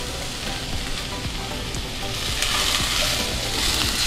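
Vegetable chunks fry lightly in a pan, giving a dense, steady sizzle with crackling pops that swells slightly louder partway through, close up and without speech.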